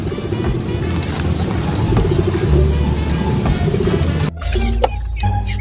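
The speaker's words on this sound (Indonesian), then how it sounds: "Wow, ada burung teman-teman." A pigeon or dove coos repeatedly amid dense, steady background noise, with other birds faintly present; the busy noise drops abruptly near the end.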